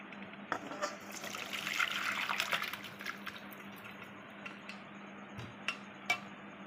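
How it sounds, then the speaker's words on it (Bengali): Cooked chicken and vegetable stew pours from a pressure cooker into a bowl. A soft close liquid slosh swells for a couple of seconds, then gives way to scattered faint drips and clinks, with no voices. "এবারে ঢেলে ফেলবো একটা পাত্রে"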